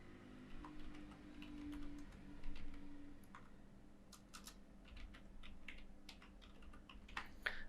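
A search term is typed on a computer keyboard, a faint run of light, uneven key taps, sparse at first and then quicker, over a quiet room hum.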